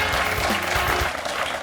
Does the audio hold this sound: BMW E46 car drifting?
no